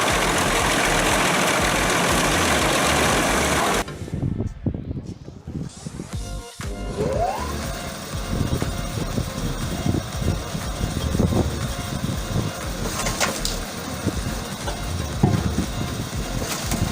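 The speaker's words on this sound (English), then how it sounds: "HP Volvo engine, it handles 800mm logs and produces 380 cubic meters of wood chips per hour" Firewood processing machine with a Volvo engine, handling 800 mm logs, heard as a loud, steady engine drone that cuts out abruptly near the start and then resumes as ongoing mechanical rumbling with clanks and knocks.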